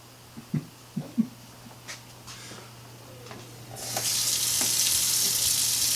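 Hands washed under a running kitchen tap while cooking Swedish meatballs: a few soft clicks and knocks, then a steady, fairly loud rush of water that starts partway through and keeps flowing to the end.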